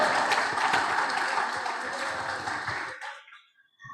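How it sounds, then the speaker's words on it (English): A seminar audience claps for the speakers and moderator at the end of a session, a moderate wash of applause that holds steady and then stops abruptly, leaving near silence. "give applause to our speakers and our moderator."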